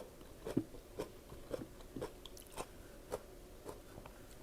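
Crisp bites into fresh raw vegetables, including sweet leaf greens, repeating in a steady rhythm of about eight close, loud crunches with chewing between them.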